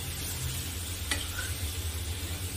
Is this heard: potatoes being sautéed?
yes